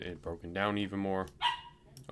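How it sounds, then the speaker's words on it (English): A pet dog barks a few short times in the background of a room while someone talks continuously over it. "I apologize for my dog in the background."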